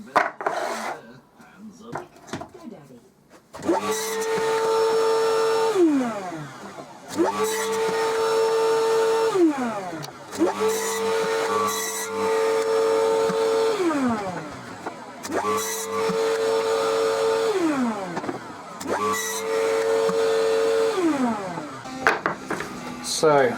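A miter saw at a workstation with a stop block cuts plywood offcuts to length: five repeated cuts, each a rising motor whine and blade bite that spins down, evenly spaced and close.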